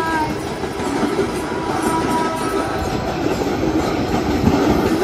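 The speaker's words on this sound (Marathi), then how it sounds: "ती बघ ट्रेन आले." A train rolls past nearby, a loud steady rumble and rattle of wagons on the rails with a faint high squeal, continuous throughout.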